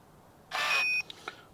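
A smart lever lock unlocks from an app: a short, bright electronic beep tone lasting about half a second, followed by two faint clicks, quiet and close.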